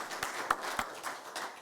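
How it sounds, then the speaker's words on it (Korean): Brief congratulatory applause from the congregation at a church ordination service, a thin patter of claps with a few distinct sharp hand claps, moderately distant and fairly quiet, with no talking. "예, 감사 축하 박수 드리겠습니다."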